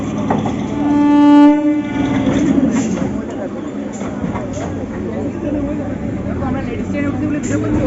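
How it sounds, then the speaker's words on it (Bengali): A train pulls into a railway station, a horn-like tone sounding at first before rumbling wheels and carriage noise continue steadily, with people talking nearby. "এই ট্রেন ঢুকে গেছে"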